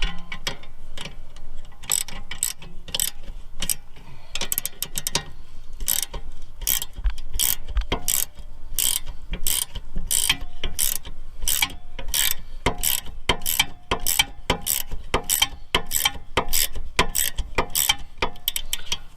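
A ratchet wrench snugs up camber bolts on a 2005 Grand Prix, giving close, steady bursts of rapid clicking that repeat in an even rhythm throughout.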